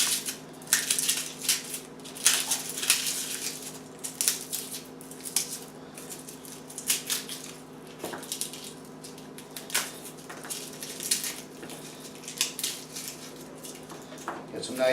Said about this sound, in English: Now we're going to go ahead and peel some garlic up.